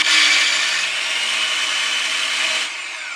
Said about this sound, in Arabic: وبعد كده هضربها جامد في الخلاط.